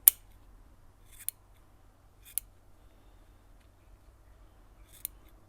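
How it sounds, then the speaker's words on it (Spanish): Scissors snip through a crochet amigurumi piece to trim it round, giving four crisp, isolated cuts spaced about a second apart in an otherwise quiet room. "con la tijera, pues le voy a dar la forma para que quede bien redondo. Lo voy a ir cortando así."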